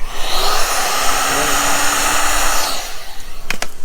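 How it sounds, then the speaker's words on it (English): Heat gun blowing on vinyl wrap during a Mazda Miata livery install, a loud steady airy whoosh close by that cuts out near the end, followed by a couple of sharp clicks. "So that'll all come out in the heat gun"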